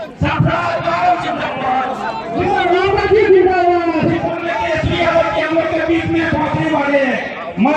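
A large crowd at a political rally roars and chants in a loud, continuous wave of voices, with shouting layered over the noise and no distinct clapping.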